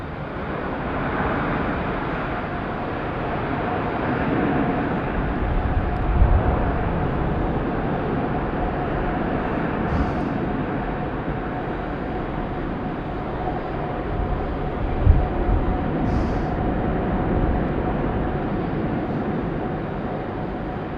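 An Emirates Airbus A380 takes off at night at Sydney Airport, a steady, broad jet roar holding level for the whole stretch with a faint tonal whine riding through it and no talk.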